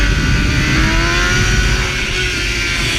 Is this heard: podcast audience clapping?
no